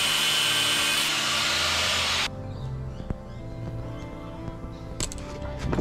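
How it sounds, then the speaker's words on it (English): An angle grinder cuts through a snapped stainless steel hinge fitting, a loud, steady broadband whine for about two seconds before it stops abruptly, leaving quieter workshop clatter and a couple of sharp knocks. "So I just have to grind this off."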